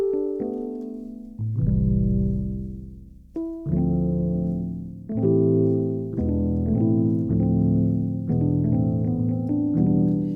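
Warm Rhodes electric piano chords from a software instrument ring out one after another, mellow and bell-like with sustained notes, played alone at moderate volume.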